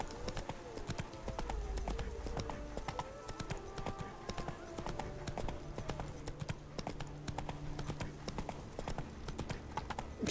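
Roach, Geralt's horse in The Witcher 3, gallops along in a steady rapid clip-clop of hooves, loud and continuous over game music and ambience, with someone talking at times.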